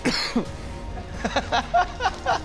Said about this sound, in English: The whole room's coughing